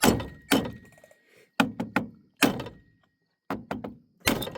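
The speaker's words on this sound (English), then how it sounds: "I'm going to give it a couple of good taps." Hard taps struck on a Pioneer machine: about ten sharp, close thunks in uneven bursts of two or three, separated by short silences, with no talking.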